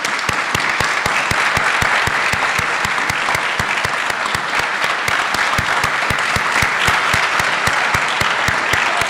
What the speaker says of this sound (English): we give you a round of applause, please.